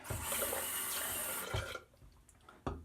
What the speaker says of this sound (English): dump the distilled water out of the Crown King scuttle